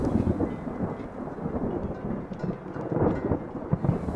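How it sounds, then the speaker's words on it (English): An afternoon thunderstorm in high mountains along a salt caravan route, heard as a loud, continuous roll of thunder with heavy rain under it, rumbling and swelling unevenly throughout. "And again, like every afternoon, the storms appear."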